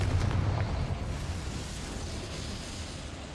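A Confringo fire spell explosion in the Hogwarts Legacy video game, a heavy rumbling boom that starts loud and then lingers as a dense, slowly fading roar.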